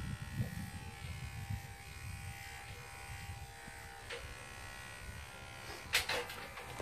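An electric shaver runs steadily on a dairy cow's udder to clean it up before milking, giving a faint continuous buzz with a few brief louder scrapes near the end and no voices.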